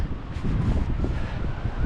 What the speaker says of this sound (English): Still sunny. A little windy.